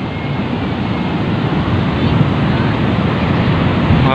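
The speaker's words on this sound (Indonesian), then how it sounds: "tuh gede banget itu ombaknya tuh guys" Big ocean waves at Karapyak beach in Pangandaran, West Java, a loud continuous roar of surf mixed with wind buffeting the microphone, with no clear talk.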